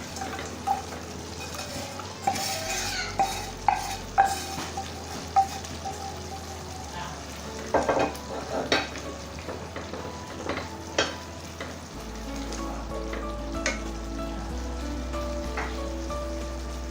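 Chicken pieces go into a simmering tikka masala gravy in a pan, with steady close sizzling and frying under repeated stirring and scraping clatters of a utensil, plus a low background hum.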